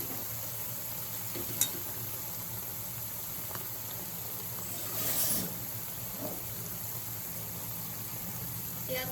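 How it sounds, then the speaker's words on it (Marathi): Onions for Maharashtrian chicken biryani fry in a pan with a soft, steady sizzling hiss, fairly quiet and continuous, with a couple of brief stir clicks and a short swell of crackle. "आता आपल्याला हे कांदे एकदम लाल होऊपर्यंत चांगले फ्राय करत घ्यायचे."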